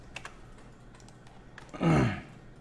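Computer keyboard keys tapped while working in a design program, a few light scattered clicks followed by a louder burst of close rustling and clattering near the middle, then quiet.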